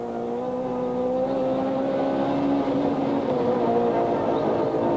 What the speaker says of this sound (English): their Class C Toyota Conquest as they bounce and battle their way over the rough roads in their privately entered car